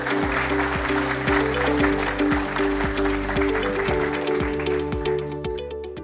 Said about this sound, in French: Voilà, on peut les applaudir.